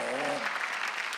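Congregation applauding during a Korean church Sunday worship service, a brief burst of clapping under a preacher's voice that fades away within a second.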